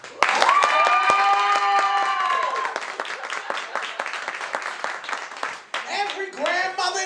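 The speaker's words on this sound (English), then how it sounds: "clap if you here for this" An audience claps through a comedic talk show, sustained scattered clapping at first that thins out, with a voice speaking over it near the end.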